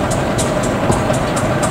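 A diesel locomotive, the boxy-nosed type, pulls away from a station stop bound for Padalarang, sending out a loud, steady engine roar with repeated high rail clicks and squeals over it. No one speaks.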